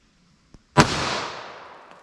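A single .45 ACP pistol shot firing a 230 grain round, one sharp loud crack followed by a long fading echo, preceded by a faint click, with no talking.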